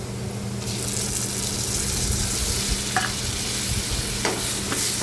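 Ground masala paste stir-frying in hot oil in a pan for a brinjal, potato and bombil curry, giving a loud continuous sizzle with a few scraping stirs and light clinks.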